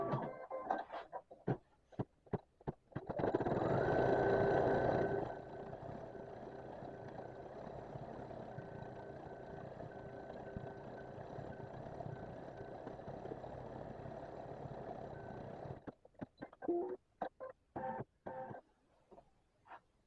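Embroidery machine stitching out a sketch-style turkey design, with a long run of steady rapid mechanical whirring and buzzing between bursts of clicking stops and starts, close and alone without talk.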